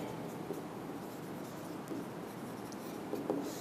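A teacher writes on a classroom board, faint soft scratching strokes under a steady background hiss, with a few slightly louder marks near the end.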